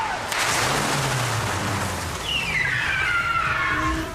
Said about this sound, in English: the car's coming in really fast